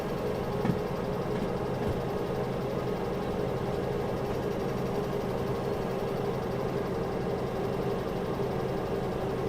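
Train locomotive engine in Derail Valley, a steady low rumbling drone that is throttled up and holds constant throughout with no talk.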